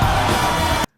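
A woman lets out a single loud, excited whoop of about a second that cuts off abruptly into silence.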